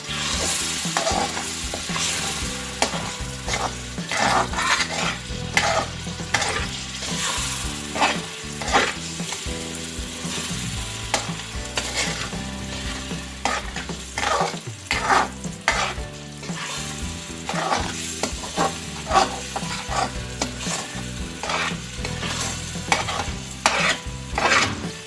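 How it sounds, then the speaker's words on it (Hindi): Makhandi halwa is stirred and roasted in a pan over low heat, with a steady sizzle and repeated scraping strokes of the spoon throughout and no talking. "हल्की आंच पर इसे भूनते रहना है आहिस्ता आहिस्ता।"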